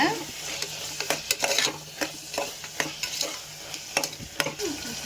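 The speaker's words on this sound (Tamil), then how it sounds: "இப்போ எல்லாம் சேர்த்து வதக்கிக்கலாங்க" A spoon scrapes and stirs masala spices for Madurai kari dosa in a hot pan, rhythmic clinks over a steady sizzle and crackle of frying, close up.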